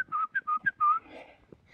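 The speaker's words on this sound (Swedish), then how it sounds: "Ett sätt är att jag visslar och på det sättet håller en kontakt med honom" A hunter whistles to keep in contact with his hunting dog, a series of short, clear tonal whistle blasts in quick succession followed by one longer note, close and loud, then quiet.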